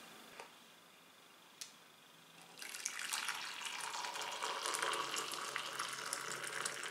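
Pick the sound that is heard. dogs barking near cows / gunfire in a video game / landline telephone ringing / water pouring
water pouring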